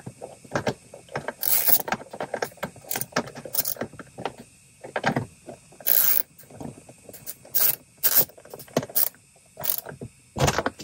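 A tweeter mount is tightened down inside a Toyota Tacoma during a DS18 Pro-ST tweeter install, with a series of close, irregular clicks, ratcheting rattles and sharp plastic clacks separated by brief quiet gaps.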